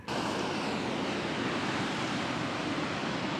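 Ocean waves rolling in along an Australian coastline, a broad steady wash of surf with a loud, continuous roar and some wind noise, no voices.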